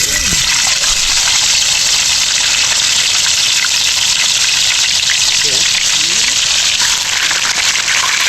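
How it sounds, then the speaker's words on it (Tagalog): Lapu-lapu fish frying in oil over low heat gives a steady, loud hiss and crackle of sizzling throughout, with no pauses. "prito na natin siya ng medyo malamlam lang"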